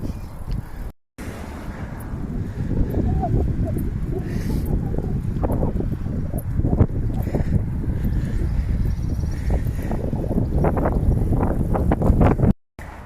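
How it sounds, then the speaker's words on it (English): Wind buffets the microphone in a steady loud rush while a touring bicycle climbs toward Beatock, with the roar holding almost unbroken apart from two brief dropouts. "pleased to report the wind's changed and it's pushing me up here"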